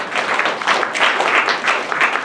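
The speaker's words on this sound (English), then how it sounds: "Give them an applause, right?" A crowd claps for the team behind a collaborative architecture project from Cloud 9, the applause loud, dense and continuous, with no speech over it.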